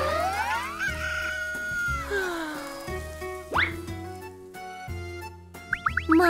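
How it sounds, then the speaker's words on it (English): A farmyard chicken in a fairy-tale scene, clucking and crowing amid cartoon-style sound effects and music, with a bright rising squawk near the middle and quick bursts near the end. "After a while, this time, they met a chicken."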